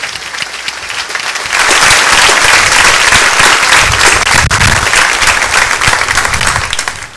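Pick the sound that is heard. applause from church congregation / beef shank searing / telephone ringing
applause from church congregation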